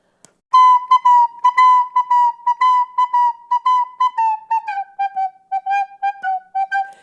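A recorder plays a bouncing line of short tones in a long-short, galloping rhythm, clear and close, with a slight drop in pitch midway.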